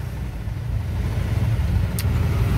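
Cars crawl in a traffic jam, a steady low rumble of engines idling and creeping nearby, with a brief high click partway through and no voices.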